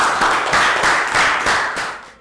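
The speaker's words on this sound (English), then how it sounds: "high five and round of applause for down" Classroom children clapping after a static electricity balloon demonstration, a brisk, close burst of applause with pulsing waves that tails off toward the end.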